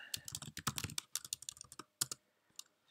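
Quick, close keystrokes tap out a password on a computer keyboard during an Ubuntu 15.04 desktop install, a burst of rapid clicks that thins to a few isolated presses.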